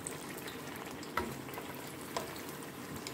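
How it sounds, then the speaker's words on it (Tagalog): Eggplant frying in a pan while a home meal with lentils is cooked, a soft, steady sizzle at low volume, broken by two brief clinks of utensils. "Nagluluto ako ng ulam namin, pagkain namin. Yan yung dardara, lentils, at saka pritong talong."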